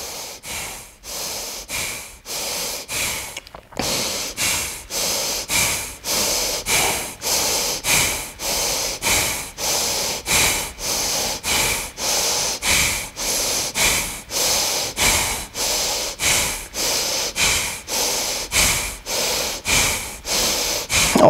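Steady rhythmic breathing from a yoga breathing-exercise cycle performed with a hand mudra, quick sharp nasal exhalations repeated roughly every second for about twenty seconds, close and clear with no talking.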